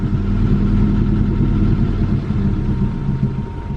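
A Honda Civic EK engine idles steadily after being restarted, a loud, close, even rumble with a faint whine above it and no voices.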